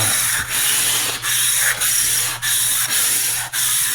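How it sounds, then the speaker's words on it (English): A grill brick with a little oil scrubs a flat-top cooking grill in steady, rhythmic abrasive strokes, each pass a gritty rasp with a brief pause between, close and fairly loud, no voices. "I'll use a little oil in a brick, and I'll scrape it in so the surface is nice and smooth"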